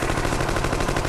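Rifle gunfire burst: a dense, loud, rapid string of shots filling the whole moment, with no talk.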